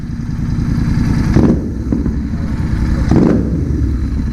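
Modified 2024 GT650 motorcycle engine revving hard at full throttle, a loud close rumbling roar with two sharp surging peaks of acceleration.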